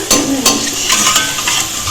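Pakoras frying in hot oil at home, a steady sizzle broken by several sharp scraping stirs of a spatula against the pan, close and fairly loud with no talk.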